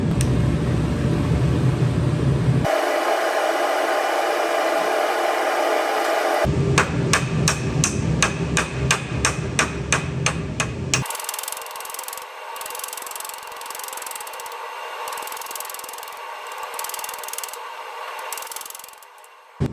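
Sharp hammer blows strike in a rapid, evenly spaced series while a hand-made shifter for a Born-Free 16 build is shaped, set between stretches of steady mechanical and grinding noise, loud and close.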